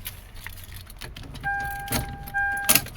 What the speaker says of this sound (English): get the keys.